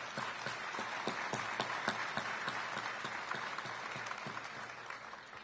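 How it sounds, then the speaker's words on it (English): Audience applause for school counselors at a high school senior awards ceremony: steady clapping from a crowd in a hall, with individual claps standing out in a loose rhythm at even volume. "Let's give them a round of applause."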